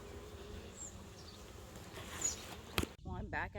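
Faint, constant buzzing of honey bees around an open hive, with a few louder passes close by and a person speaking briefly near the end.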